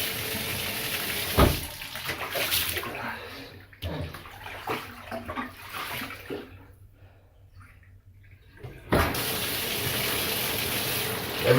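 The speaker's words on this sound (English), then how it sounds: "let's see if I'm speeding up the water going down inside this tub here" Water gushes and drains down a bathtub after plunging a clog, a steady broadband rush that thins to a quiet gurgle midway, then surges back strong and continuous near the end.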